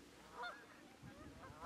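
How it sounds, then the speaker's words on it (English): Canada geese honk on muddy flats along a wilderness waterway, a couple of brief distant calls over faint outdoor ambience. "Canada geese graze upon the flats as we slide on by through the mud"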